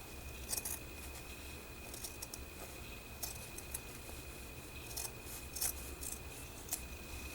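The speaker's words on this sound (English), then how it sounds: "So yeah, so I'm going to cut out this." Scissors snip through paper for a junk journal in a quiet room, a few soft, close cuts with light rustling between them and no talking.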